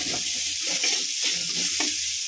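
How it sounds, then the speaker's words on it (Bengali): Olive chutney fries with turmeric just added and is stirred in the pan, giving a steady, loud sizzle with soft scraping strokes underneath. "অল্প করে হলুদ দিয়ে ভালো করে নেড়ে চেড়ে নেবো"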